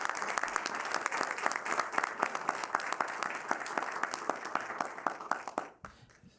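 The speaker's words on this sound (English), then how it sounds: "please join me in applauding your new Mayor Pro Tem" An audience at a Pinole City Council meeting applauds the newly sworn-in Mayor Pro Tem, steady close clapping that runs strong for about six seconds before cutting off abruptly into near silence.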